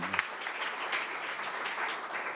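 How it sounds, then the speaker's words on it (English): Attendees at a sold-out European summit give a round of applause, a brief, even wash of crowd clapping heard from within the room. "big round of applause, yeah."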